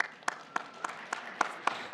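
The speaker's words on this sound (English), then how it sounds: "I think I heard applause." Sparse applause from a conference audience: a handful of distinct, evenly spaced claps, fairly faint and a little distant, with no talking over them.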